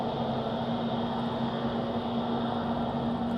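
A jet airliner drones steadily near Madeira Island Airport in strong wind, its engine a continuous loud roar with a constant humming tone and no break or voices.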